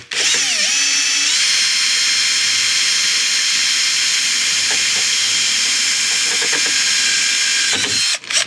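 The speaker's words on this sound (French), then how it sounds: "ensuite je vais pouvoir percer pour remettre mon rivet qui était de l'autre côté" A power drill bores a rivet hole in the door of a Microcar MGO2 while an exterior door handle is being replaced, giving a loud, steady, high whine for about eight seconds before stopping.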